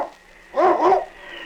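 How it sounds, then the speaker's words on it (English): A husky lead dog in an old radio adventure set in the Yukon gives a short burst of two or three close, loud barks against a quiet background. "It's Yukon King, swiftest and strongest lead dog of the Northwest"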